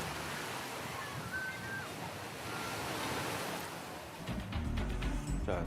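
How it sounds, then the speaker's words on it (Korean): Ocean surf washes onto a beach in Pohang, Gyeongbuk, as a continuous broad roar of breaking waves mixed with wind rumble, moderately loud and with no voices. "이곳은 경북 포항에 있는 한 해수욕장인데요"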